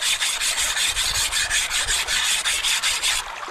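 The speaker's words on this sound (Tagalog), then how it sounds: "Tayo po'y maghahasa po muna ng halabas natin." A bolo knife (halabas) is sharpened with a steady series of rhythmic rasping strokes on a stone, each scrape bright and close, repeating evenly with no talking.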